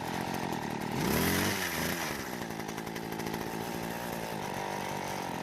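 A small two-stroke hedge trimmer engine that won't stay running buzzes steadily at close range, with a brief rising rev near the start before settling into a rough, rattling idle that continues to the end.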